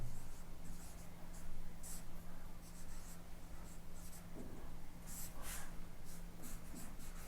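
A pen scratching across paper while maths working is written out, a continuous close, quiet scribbling with short strokes and pauses, no talking.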